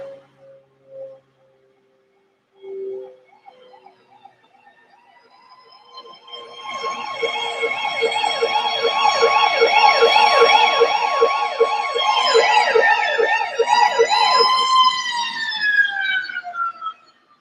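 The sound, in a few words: sirens in music recording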